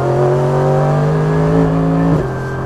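A 2020 Mercedes-AMG GT3 race car engine roars loudly from inside the cockpit, holding a rising note, then dips sharply as the driver short-shifts up a gear and the engine pulls on.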